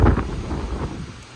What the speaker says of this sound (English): if you could see the world, it is windy as heck